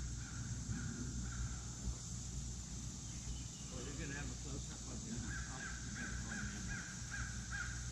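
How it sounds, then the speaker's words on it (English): Crows in campground trees caw at a hawk, with repeated harsh calls at a moderate distance and soft voices talking underneath. "There's some crows trying to scare them off."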